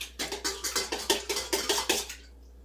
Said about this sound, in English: We're just going to mix that around because that water in there is warm